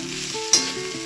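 Idli fries in ghee in a pan, a steady hiss of sizzling with a faint tonal hum beneath and one brief clink or scrape partway through.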